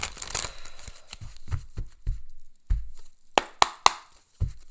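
A deck of tarot cards being shuffled by hand, a run of soft riffling flutters and crisp slaps in irregular bursts, close and fairly quiet with no talking.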